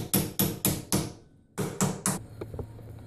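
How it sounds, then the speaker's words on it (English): Sharp metallic strikes of a small hammer on a ball joint press while fitting control arm bushings on a Camaro, four quick evenly spaced blows, a brief pause, then three more, ringing close and loud. "Get my little hammer."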